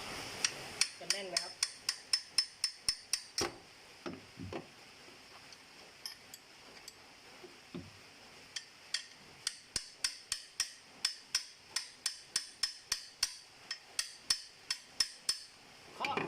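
Sharp metallic hammer blows struck in a steady rapid series while fitting the air-conditioning compressor drive belt on an Isuzu D-Max 2500, pausing briefly midway, then resuming in a long even run, close and clear.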